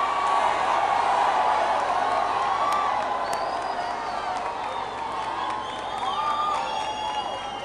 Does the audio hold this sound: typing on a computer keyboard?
no